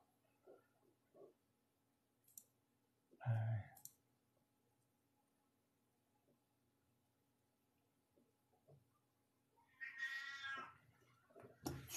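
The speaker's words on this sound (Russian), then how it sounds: "Что ты мяукаешь?" A house cat meows indoors, two or three brief cries spread across a quiet room with faint clicking, the loudest meow near the start and a longer call toward the end.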